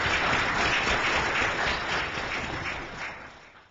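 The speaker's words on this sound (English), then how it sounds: "Please give a big round of applause to Mr." An audience at a Sasakawa Peace Foundation event applauding a guest speaker, a dense, even round of clapping at moderate distance that gradually fades out at the end.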